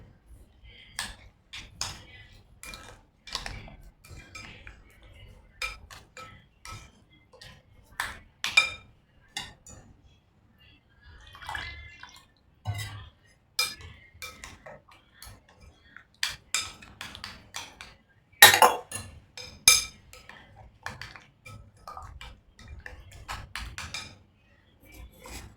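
Melted jaggery is stirred into rava batter with a utensil, giving soft irregular scrapes and taps against the bowl, intermittent and close, with quiet stretches between strokes.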